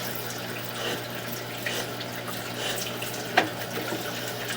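Water flows through a cast iron drain pipe during a camera inspection: a steady, even rushing hiss with a low constant hum beneath and one sharp knock partway through.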